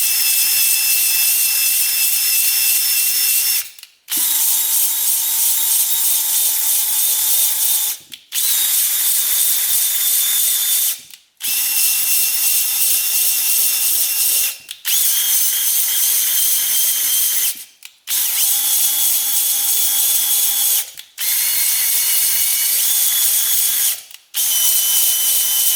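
A power drill spins a hone inside a rusty part from a 1960s Ducati scooter, a steady high grinding whir that stops briefly about every three to four seconds and starts again.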